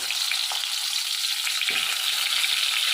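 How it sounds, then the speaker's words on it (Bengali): Pointed gourd (potol) pieces frying in hot mustard oil in a kadai, a steady close sizzle with a few soft clicks and shuffles, no voices. "এবারে আমি পটলগুলো ভেজে নেব পটলগুলো দিয়ে দিলাম"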